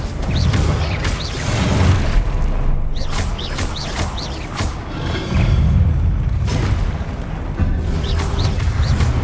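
Confringo fire spells blast in Hogwarts Legacy on PS5, with loud, dense booms and crashing impacts over continuous rumbling combat noise, repeated several times across the stretch.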